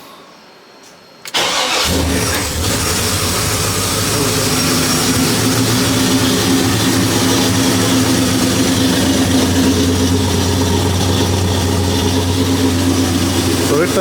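A 1973 Chevrolet Impala with a 406 small-block Chevy V8 fires up after repairs, a short crank then a loud, steady rumbling idle with deep exhaust pulses, close by and continuing alone.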